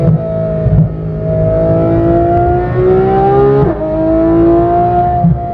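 A car's engine revs and pulls hard while being driven, its pitch climbing steadily through gears with brief dips at shifts, loud and close from inside the cabin.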